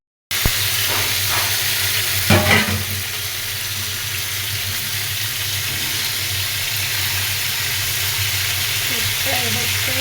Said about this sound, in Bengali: অবশ্য ঢেঁড়স ভাজি করছি